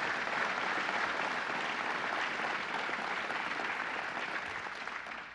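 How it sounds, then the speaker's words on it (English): A crowd at a groundbreaking ceremony in Ithaca gives Martha Robertson a round of applause, full sustained clapping that tapers slightly toward the end, with no talk over it. "Let's give Martha Robertson a round of applause."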